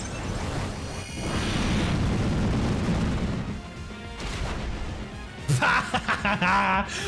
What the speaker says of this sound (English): Using Explosion on a Rock-type Pokemon